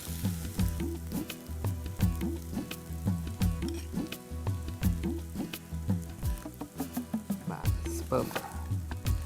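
Boiled potatoes are stirred in a pan with fresh grated coconut and crushed peanuts after the gas is turned off, giving a close, steady run of spatula scrapes and clinks over a soft sizzle.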